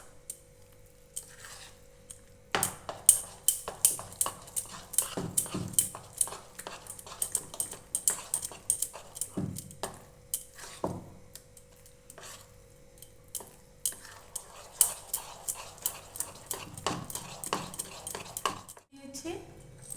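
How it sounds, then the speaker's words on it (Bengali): Semolina batter with grated coconut and baking soda being mixed by hand in a bowl, giving close, irregular scrapes, clinks and soft stirring knocks with brief pauses between bursts. "এখন আমি নারকেল কোড়া আর এই বেকিং সোডা দিয়ে মিশ্রণটা ভালো করে মেখে নেব"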